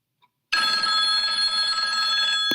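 A restaurant telephone rings loudly and steadily right after a brief silence, a continuous close electronic bell tone that cuts off abruptly at the end, with no talking over it.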